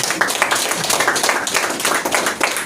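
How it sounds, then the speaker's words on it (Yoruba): A crowd claps for General Abájọwà at a gathering of Afenifere leaders hosted by the Ooni, a short burst of steady, dense applause from many hands. "ẹ bá mi pàtẹ́wọ́ fún General"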